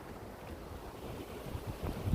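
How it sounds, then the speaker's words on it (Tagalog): Strong blizzard wind buffets the microphone in a continuous low roaring rumble that grows slightly louder toward the end, with no voices. "it's very windy guys. It's very windy."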